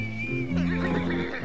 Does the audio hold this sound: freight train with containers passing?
no